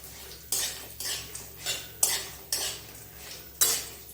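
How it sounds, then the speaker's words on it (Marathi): A utensil stirs halved dried coconut roasting in a pan, with six or seven distinct scraping, clattering strokes in a loose rhythm, close and clear with no talk. "आता हे मस्त हलवून घेऊ आपण"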